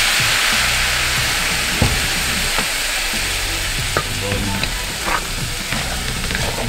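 Black pepper pork stir-fries in a wok, a loud, continuous sizzle broken by scraping, clacking strokes of a wooden spoon that turns the meat.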